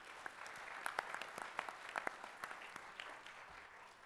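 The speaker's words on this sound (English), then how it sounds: "So he needs that round of applause." Audience applause at the Jalsa Salana 2019 gathering, a faint, brief round of scattered clapping with distinct individual claps, fading after a few seconds.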